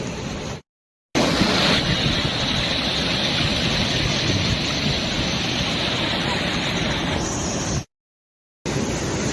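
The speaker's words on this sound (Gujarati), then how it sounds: "આ જો પાણી કેટલું જાય છે." A flooded Kamnath river rushes past near the Kamnath Mahadev temple in a steady, loud, broadband roar that continues unbroken, apart from two brief cuts to silence.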